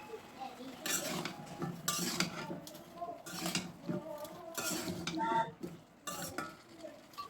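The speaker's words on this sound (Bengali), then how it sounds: "আমি কেটে রাখা লাউগুলো দিয়ে লাউটা ভালো করে কষাতে থাকবো" Bottle gourd pieces being stirred with spices in a pan, a utensil scraping and clattering against the metal in repeated bursts over a faint sizzle.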